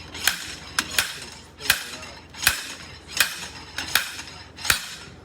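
A slide hammer pulls the axle from a 1962 Ford Thunderbird, giving about seven sharp metallic clanks at uneven intervals. The blows are loud and close, with no talking between them.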